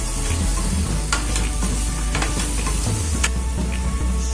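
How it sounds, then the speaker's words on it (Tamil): Tomatoes and onions sautéing with coriander in a pan for dal khichdi, a steady loud sizzle broken by clattering stirring strokes throughout, with no voices. "இப்ப தக்காளி போட்டுட்டு நல்லா வதக்கிக்கலாம்"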